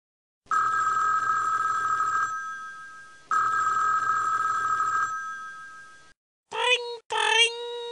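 A telephone rings in the 1998 Sesame Street numbers PC game. It gives two long electronic rings with a pause between, then a voice briefly imitates the ringing.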